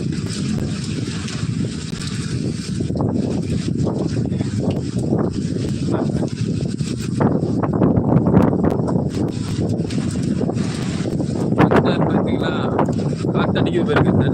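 Steady, loud rushing wind gusts across the whole stretch on a hill in the rain, with a voice speaking over the blustery noise.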